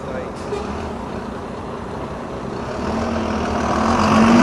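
A London bus pulls in at a stop, its engine rumbling steadily and growing louder toward the end under a broad hum of traffic.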